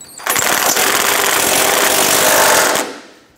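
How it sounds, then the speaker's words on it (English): An impact wrench runs loud and close in one steady burst of about two and a half seconds, driving the upper subframe crossmember bolts tight on a 2006-2013 Chevrolet Impala. "Let's go ahead and tighten these bolts down."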